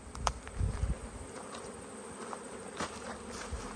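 Italian honey bees hum around an open hive during a backyard inspection, a faint steady buzz with a few louder passes as individual bees fly close, alongside light handling knocks.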